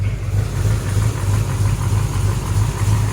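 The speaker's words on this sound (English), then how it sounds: "This is a 1970 LT1 engine that came out of a Z28 Camaro, fully rebuilt." A fully rebuilt 1970 Chevrolet LT1 engine, from a Z28 Camaro, idles steadily up close in a 1970 Chevrolet Nova, a low, even rumble with a slight rhythmic throb and no voices.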